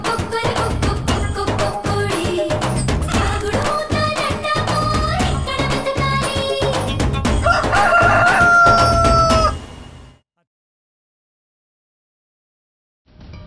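A rooster crows loudly and repeatedly over a dense bed of music, its calls ringing out clearly for several seconds before everything cuts to near silence.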